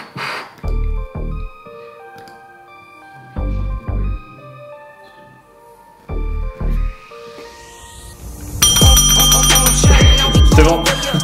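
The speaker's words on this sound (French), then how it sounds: "Est-ce qu'on pourra ou pas sonner la cloche?" A celebratory bell is rung loudly in an office after a deal is signed, a bright, sustained metallic clanging over the last few seconds that follows a series of short, pulsing electronic tones.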